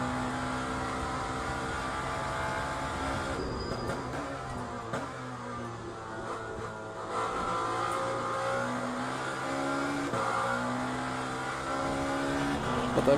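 A Lamborghini race car engine in a WEC racing video game roars steadily throughout, with revving pitch climbs and gear-shift steps over continuous mechanical drone.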